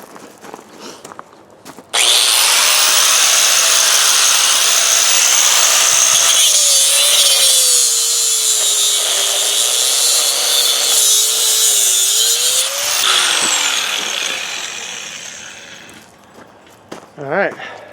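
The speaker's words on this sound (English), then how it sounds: "If I don't pinch the cutoff wheel," A power tool with a cutoff wheel grinds loudly through scrap metal, a sustained close screeching whine for about eleven seconds that shifts in pitch as it bites, then winds down.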